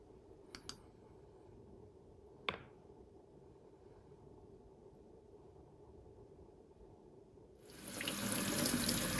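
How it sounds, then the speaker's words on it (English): Tap water runs into a sink to rinse peeled chestnuts, a steady broadband rush that starts suddenly near the end after a quiet stretch with faint background hum and a couple of small clicks. "Just rinse it under running water and the shells will float and the chestnuts will sink."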